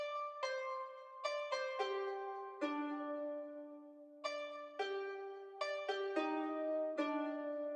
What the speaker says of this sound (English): guitar bell layered sound that sounds like this